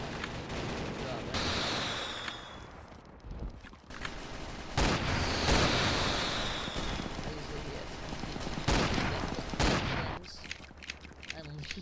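Shotgun fire in the video game Zeppelin Wars, quiet bursts of blasts with gaps between them over game noise, with brief whooshing sweeps.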